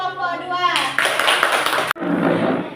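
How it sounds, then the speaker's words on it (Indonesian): A classroom of students applauding a presenting group, a sudden burst of clapping that follows a voice, breaks off briefly and resumes, loud and close. "Beri aplaus untuk kelompok"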